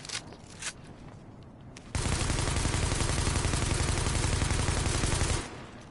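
Sustained automatic gunfire from a gun in The Division video game, a dense rapid burst lasting several seconds loud and close, after a few quieter clicks and shots, then cutting off abruptly.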